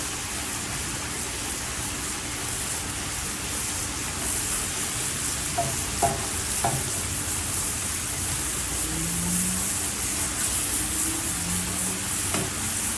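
Salmon fries on a hot Blackstone griddle with a dense, even sizzle that fills the whole stretch, close and loud, with a few faint clicks and scrapes of a utensil.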